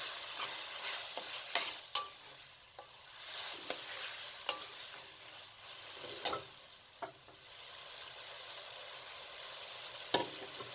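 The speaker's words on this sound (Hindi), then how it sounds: "कद्दू शामिल करके आपने तकरीबन 3 से 4 मिनट तक इसे अच्छे तरीके से भून लेना है।" Pumpkin pieces frying in spiced oil for a kaddu curry, turned with a spoon: a faint, continuous sizzle broken by regular light scrapes and taps against the pan, quiet throughout and without speech.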